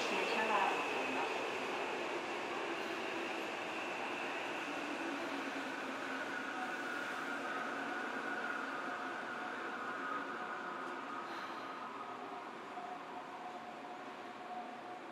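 Tobu 30000 series electric train car running between Koshigaya and Tobu-Dobutsu-Koen, heard from inside as a steady continuous rumble with a faint motor whine changing pitch, nearby and unbroken for the whole stretch.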